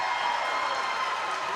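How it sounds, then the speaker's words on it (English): A crowd at a college men's ice hockey game between SUNY Oswego and SUNY Brockport roars steadily after a goal, a dense, even wash of cheering and clapping heard from within the arena. "Crowd is cheering on Shane Bull as they call his goal."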